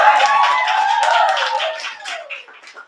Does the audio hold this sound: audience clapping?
yes